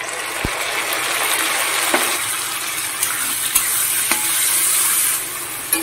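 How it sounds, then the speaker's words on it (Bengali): Potatoes frying in a pan while being stirred, a continuous close sizzle broken by scraping strokes and a few sharp knocks of the spatula. "এবার আলুটাকে একটু হালকা করে লাল লাল করে ভেজে নেব"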